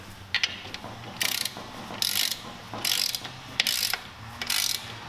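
A ratcheting torque wrench tightens bolts on a Mazda Miata 1.8 engine to about 18 foot-pounds, giving five or six bursts of rapid, close clicking separated by short pauses.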